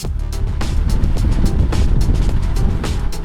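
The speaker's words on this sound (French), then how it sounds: "Cette moissonneuse New Holland Clayson 1530 récoltant de l'orge en 2025" Steady low mechanical rumble of a New Holland Clayson 1530 combine harvester harvesting barley, dense broadband noise with rhythmic thumping and rattling, close and loud throughout.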